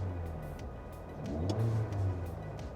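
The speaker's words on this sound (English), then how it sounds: "I'll give it some gas" A car engine idling, then revving as gas is applied, the low steady drone rising and swelling briefly before settling back, heard close without talk.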